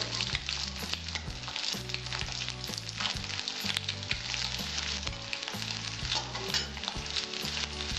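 Continuous crackling sizzle of small mola carplet fish frying in hot oil, close and steady, with a low hum underneath.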